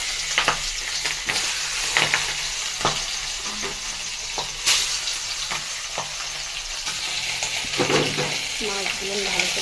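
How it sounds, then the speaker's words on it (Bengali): Fish pieces and fish heads, rubbed with turmeric, salt and chili powder, fry in hot oil: a continuous close sizzle broken by repeated scraping clacks as the pieces are stirred and turned. "মাছগুলো ভালো করে উল্টায় পাল্টায় ভাজে মাছের মাথাগুলো লাল লাল করে ভেজে নিচ্ছি"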